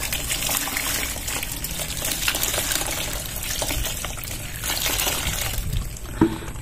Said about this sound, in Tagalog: buhusan po ito ng 1 litrong tubig